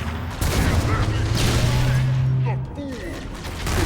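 A rocket launcher blast in the Halo video game, a loud booming burst of gunfire and explosion with a sustained roar, mixed with game effects and some voices.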